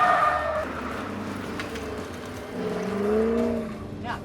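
A race car on a driving-school track skids and regains traction as the driver squeezes the gas, the engine droning steadily with a rising pitch sweep under an instructor's voice.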